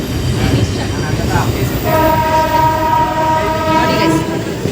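A train rumbles loudly and steadily nearby while a long horn sounds over it for the second half, on a rail route in Karnataka.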